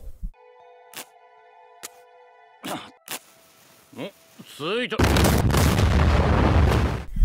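Sharp gunshots crack at intervals, followed by a heavy, sustained roar as a bomb-rigged trench is blown up amid battle noise in the anime Youjo Senki, filling the last few seconds.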